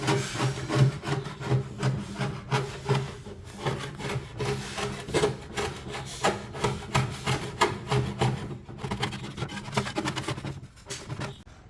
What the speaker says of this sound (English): I'm basically using a combination of scraping and sanding.